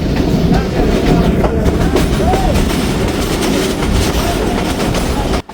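Thal Express passenger train rolling steadily on the rails with a dense low rumble and continuous clatter, loud and close throughout, with a brief squeal near the middle before it cuts off abruptly.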